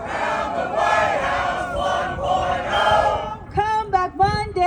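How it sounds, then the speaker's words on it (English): A large protest crowd outside the White House chants in loud unison, the shouted rhythm filling the air, then sharper individual shouts break out near the end. "This crowd's getting pretty big now."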